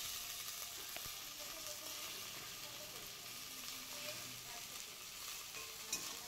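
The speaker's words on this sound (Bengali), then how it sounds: "আলুগুলো দিয়ে খুব ভালোভাবে কষিয়ে নেব।" Potatoes and onions frying together in a pan for a fish curry, a soft, even hiss of oil that runs on without a break, faint and close, with no talking.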